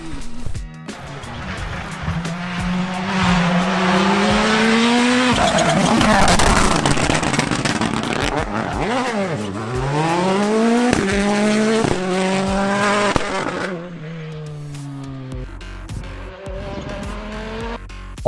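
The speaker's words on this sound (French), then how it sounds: "En plus de nous arracher les tympans, cette Puma WRC nous a impressionnés de par son freinage et son accélération" Ford Puma WRC rally car roaring close by, its engine note rising and falling as it brakes and accelerates hard, with tire squeal and gravelly crackle, loud and sustained throughout.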